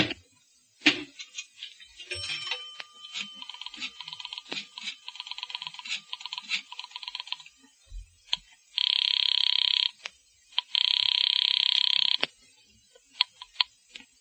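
Old-style telephone on a radio drama set: ticking dial clicks and a short tone, then two long loud rings with a pause between, followed by a few clicks.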